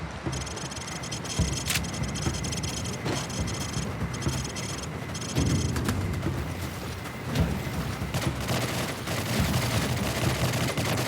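Rapid bursts of gunfire from a shooting range in the video game Call of Duty 4 crackle steadily and fairly loudly across the whole stretch, mixing single shots and sustained automatic volleys over a low rumble.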